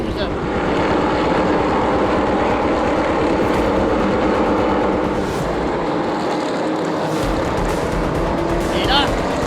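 Drag racing cars at the Festidrag event roar loudly and steadily down the track in a side-by-side race, with French commentary running over the engine noise.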